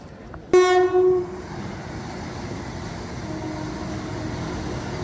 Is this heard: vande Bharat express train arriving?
yes